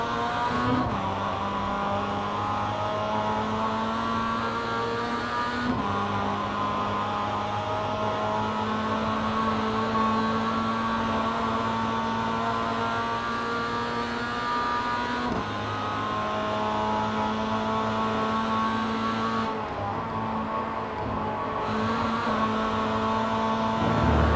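A Mazda MX5 race car engine in the iRacing sim at Summit Point drones loud and steady, rising through gears with brief dips at shifts, continuous with no talk over it.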